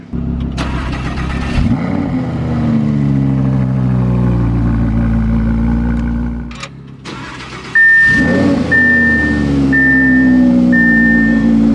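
A 5.2-litre V10 sports car engine without an aftermarket exhaust cranks and fires up, revving loudly a few times before settling into a deep, rumbling idle, with a beeping chime near the end.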